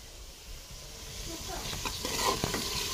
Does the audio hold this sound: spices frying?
yes